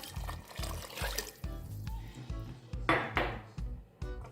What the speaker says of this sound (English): So then I'll be adding 2 more cups of water.